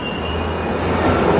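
A Pune metro train pulls into a station, a steady rumbling hum of wheels and motors with a faint high tone, growing slightly louder over a brief moment with no voices.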